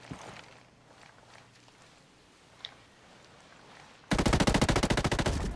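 Rapid automatic gunfire from the tactical shooter game Breakpoint bursts in loudly near the end, a dense stream of shots that follows a stretch of quiet background with a single faint click.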